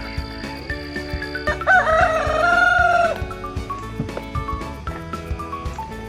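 On a farm, a rooster gives one loud, close crow among chickens, whose intermittent clucking and light rustling continue before and after it.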